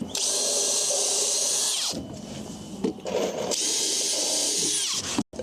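A power drill bores pre-drilled holes for windows in a wooden house frame, two long high-pitched whirring runs separated by a brief pause with some rubbing and handling noise, close and loud.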